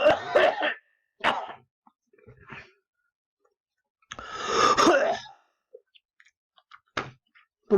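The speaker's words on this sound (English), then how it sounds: "Somebody's coughing, making me cough." Several harsh coughs and throat-clearing bursts come close by, separated by pauses and a few small clicks and breaths.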